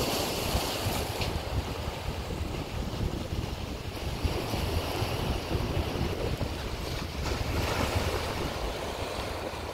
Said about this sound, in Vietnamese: Đây sóng biển ha.